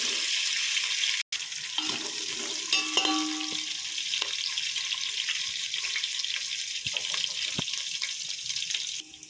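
Onions fry in a pan for biryani, a moderate steady sizzle with a few stirring knocks and clinks, one sharp click early on, no talking.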